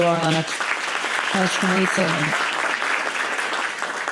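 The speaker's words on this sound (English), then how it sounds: "Another big round of applause for" An awards-ceremony audience claps for event sponsors, a full, continuous round of applause with a voice talking over it in short bursts throughout.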